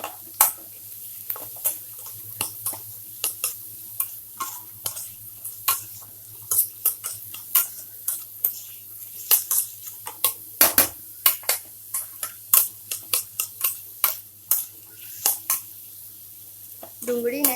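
Onions with salt and a pinch of turmeric cook in a pan for a dry potato sabji, with a low sizzle, a faint hum and repeated close clinks and scrapes of a spoon stirring at an uneven rhythm.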